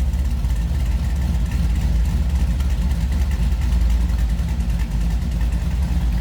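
A 1979 Chevrolet Camaro restomod with a mild cam, shorty headers and true dual exhaust idles steadily close by, giving a deep, continuous low rumble with no speech.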